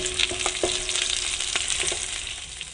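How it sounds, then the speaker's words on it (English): Garlic sizzles in a pan at the start of a chorizo pasta sauce, a close, bright continuous crackle broken by a few sharp spatula scrapes and stirring taps. "we'll cook that off until the garlic's fragrant"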